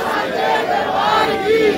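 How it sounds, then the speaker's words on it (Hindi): A protest crowd in Katra, in a road demonstration over the ropeway, shouts a jaikara chant in unison: a dense, loud, continuous roar of many voices that holds steady throughout. "जयकारा"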